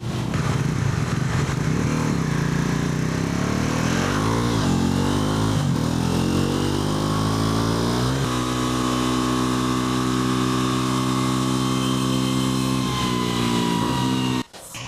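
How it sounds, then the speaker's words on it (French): A Bajaj motorcycle engine runs on a factory dynamometer, droning loud and close with a steady harmonic tone that rises and shifts as revs change, holding mostly even before cutting off abruptly at the end. "la moto est testée, passe sur le dynamomètre, subit divers tests"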